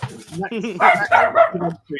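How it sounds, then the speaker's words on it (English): A small dog barks in a rapid volley of sharp yaps, close and loud, with someone talking over them. "Get a volley of barks."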